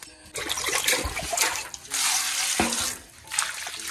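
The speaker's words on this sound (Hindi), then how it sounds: "अब इसको थोड़ा वॉश कर लेती हूँ" Running water splashes steadily as fish is rinsed by hand in a kitchen, with bursts of swishing and trickling that swell and fade over a few seconds, close and fairly loud with no talking.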